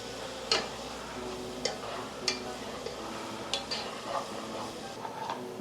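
Onion and garlic frying gently in a pan over medium heat, a soft continuous sizzle broken by several sharp spoon taps and stirring clicks at irregular intervals.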